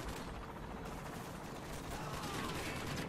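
Dense, continuous gunfire fills a Modern Warfare 2 match: overlapping rapid automatic bursts and shots rattle without pause for the whole stretch.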